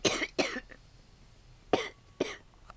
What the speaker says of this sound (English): little girl Puppet was sneezing and coughing